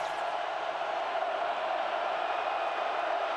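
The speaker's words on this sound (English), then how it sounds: "Listen to the crowd. They are involved." A packed football stadium crowd roars steadily at the 2007 USC at Oregon game, a constant broad wash of distant voices with no break.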